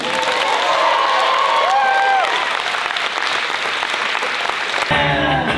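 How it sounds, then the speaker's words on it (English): A bodybuilding show crowd applauds the competing athletes, a loud, dense, sustained wash of clapping with cheers and a few whoops throughout, breaking into a rougher burst near the end. "could we hear a round of applause for the athletes that are about to compete?"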